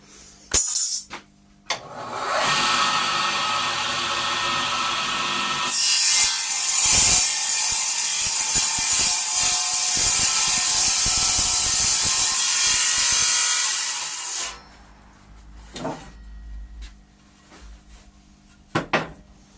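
A hand saw cutting wood for car sill woodwork on a Hillman Minx drop-head, a long stretch of steady rasping strokes close by, bracketed by short knocks and scrapes before and after, no talking.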